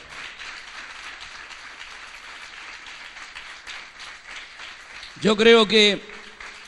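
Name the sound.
congregation applause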